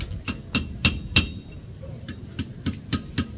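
A hammer taps on the edge of a knife blade during a traditional bladesmithing demonstration, giving about nine sharp, ringing metallic strikes in two loose groups at a steady pace, close and distinct.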